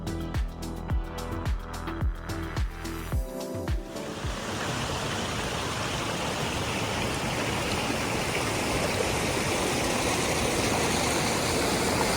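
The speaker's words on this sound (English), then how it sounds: "here's my first glimpse of the Cove Creek Falls" Cove Creek Falls in Pisgah during a winter hike: a steady, loud rush of falling water fills the scene, preceded by a few seconds of rhythmic thumps and rustling, likely footsteps, with no talking.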